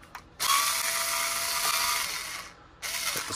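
Ratcheting tool clicking steadily as sway bar screws are backed out on a 2021 Team Associated Pro4 SC10 RC short course truck at a workbench, a continuous close mechanical whir with a brief pause before resuming.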